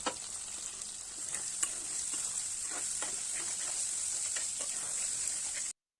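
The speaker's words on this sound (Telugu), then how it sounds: "గుడ్లు ఫ్రై చేసిన అదే ప్యాన్లో ఇప్పుడు ఉల్లిపాయలు పచ్చిమిర్చి వేసుకోవాలి" Onions and green chillies frying in the same pan just used for frying eggs, a bright, continuous close sizzle with periodic stirring scrapes that stops abruptly at the end.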